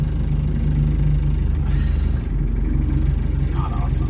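A tractor engine runs steadily while driving, a low pulsing rumble with a regular beat, close and constant underneath someone talking.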